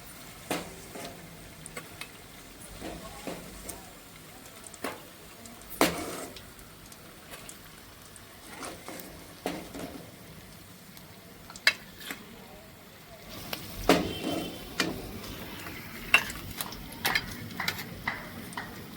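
Chopped onions hitting hot oil in a pan for an egg and dried Bombay duck curry, after eggs were fried in it: faint sizzling with scattered stirring clicks, building into denser crackling near the end.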